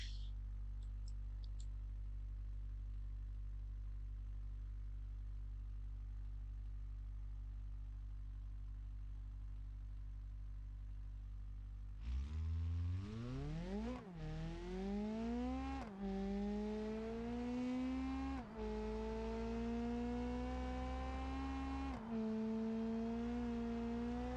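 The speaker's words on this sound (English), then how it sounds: "Ooh, hear that engine hum?" Driving video game car engine, steady low idle hum for about twelve seconds, then loud revving that climbs and drops through repeated gear shifts as the car accelerates, with no talk.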